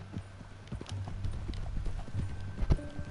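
Steady clip-clop of horse hooves at a walking pace in Red Dead Redemption 2, close by, with faint background ambience and a brief louder thud near the end.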